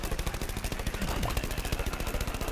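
Rapid automatic gunfire from a weapon in Plants vs Zombies Garden Warfare, a steady stream of close, evenly spaced shots running throughout with no pauses.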